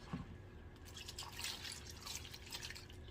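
Warm water poured into a bath tub for washing Aglaonema plants in baskets, a steady continuous trickle and splash close by with no talking.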